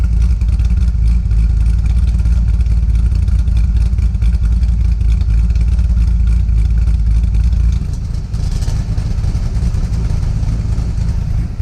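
Corvette exhaust runs with its valves closed, a loud, steady, muffled low rumble that holds through most of the stretch before dropping slightly in level near the end.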